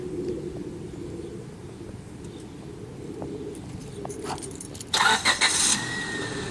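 A 1998 Honda Civic DX starts by remote car starter: an engine idles steadily at a moderate distance, birds and a cooing pigeon call around it, and a louder mechanical burst comes near the end.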